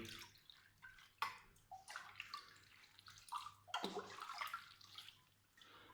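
Water splashes and gurgles unevenly as it is poured to drench Cattleya orchids growing in non-clay pots, the flow surging and easing in bursts, fairly faint and heard alone.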